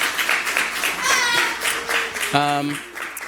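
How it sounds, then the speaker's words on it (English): Applause at a press conference, dense clapping running throughout with people talking and laughing over it, one voice rising briefly toward the end. "Let's give her a big round of applause for the work she's doing."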